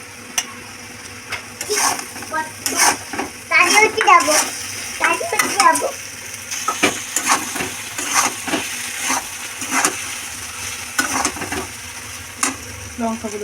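Potatoes and poppy seed paste are stirred in a pan, giving scraping and clattering strokes in irregular bursts alongside a soft sizzle, with people talking intermittently throughout.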